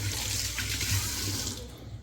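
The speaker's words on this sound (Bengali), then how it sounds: "জল দিয়ে দাও, তাহলে ওটা ধুতে সুবিধা হবে।" Tap water runs steadily into a sink to wash potatoes, a continuous close splashing stream with no talk over it.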